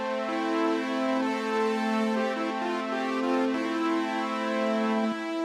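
Sustained synth drone through a comb-filter flanger with reverb added, a dense, ringing metallic tone with shimmering harmonics and slight pitch wobble, loud and steady throughout with no voices.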